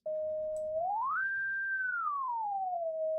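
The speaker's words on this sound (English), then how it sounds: "it depicts a spectrum with a single sine wave" A single pure sine tone from a computer program holds steady, glides smoothly up in pitch, sustains, then slides back down to its starting level, clean and alone.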